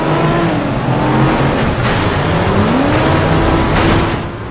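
A pack of race cars roars off the line at the start of a FlatOut Retro race, engines loud and close and revving up in a steady, continuous drone with rising pitch sweeps, with no talking.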